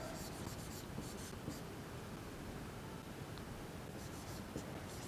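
Pen or marker writing by hand on a surface during a Class 10 maths lesson on triangles, a steady soft scratching and rustling that runs for about five seconds under low background hiss, with no talking.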